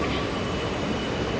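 Inside a moving train carriage, a steady, dense rumble of wheels and track noise runs without a break, loud and close, with no voices.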